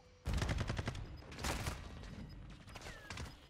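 Rapid bursts of LMG machine gun fire in Modern Warfare 2 on the Shipment map, dense crackling rounds in several close, loud volleys with short gaps between them.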